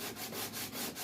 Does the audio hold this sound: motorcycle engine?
no